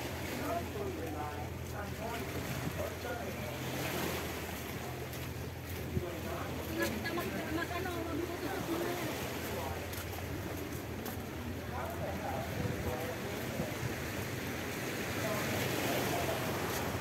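Sea waves wash steadily during a ferry ride toward Hap Mun Bay at Sai Kung, a broad continuous surge of water mixed with wind buffeting on the microphone, with someone talking intermittently over it.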